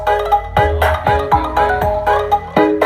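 Repeated melodic phone notification tone, loud and up close, chiming in a steady rhythm of short tuneful bursts with no speech over it, heard during a test of an Ashley LF15 V400 speaker.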